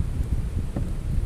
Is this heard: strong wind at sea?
yes